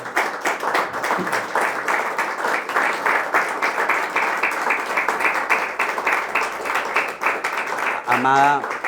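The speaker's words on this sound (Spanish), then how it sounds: "¿Será que le pueden dar un aplauso fuerte a Dios?" Church congregation giving God loud applause during a Spanish-language sermon, sustained, busy clapping from a full room that rolls on for several seconds before a voice breaks in near the end.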